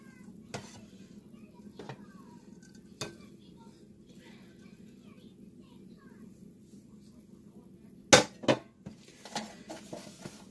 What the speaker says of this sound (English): I always use these metal tongs to kind of pick it up and get it in there